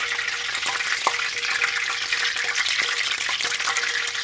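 Fish balls fry in hot oil, a steady bright sizzle with small crackles and pops throughout, close and fairly loud, no voices.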